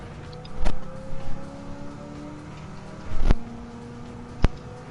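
A modified muscle car engine roars in a racing video game at Le Mans, sustained droning tones rising and falling through gear changes, broken by several sharp clicks and thumps.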